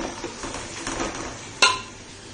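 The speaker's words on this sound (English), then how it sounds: "Mix it well and let it cook on a slow flame" Chicken in green masala with potatoes being stirred in a cooking pot over a slow flame, soft scraping and shuffling followed by one sharp metallic clink of a utensil against the pot, no talking.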